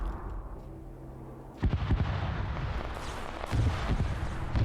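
Heavy spaceship cannon fire in a video game battle, booming blasts at a close distance over a constant low rumble, with a couple of deep impacts following each other.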